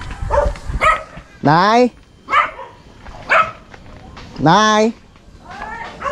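A puppy barks in a few short, sharp yips at the family's house, with two longer howling whines mixed in. People talk close by between the barks.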